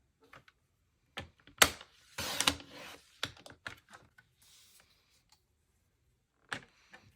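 A strip of paper is cut on a paper trimmer in a quiet room. Close, sharp clicks and short sliding swishes come in bursts, with a longer rasping stroke near the middle and no voices.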